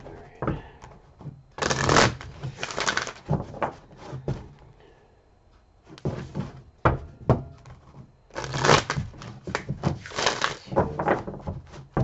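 Cards are riffled and shuffled in several quick bursts, crisp and close, separated by short pauses and light handling noises.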